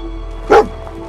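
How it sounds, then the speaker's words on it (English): Dog in a Fallout video game lets out a single short, sharp bark up close over a low steady hum, with a faint softer yip just after it. "So when he barks, you have to follow him."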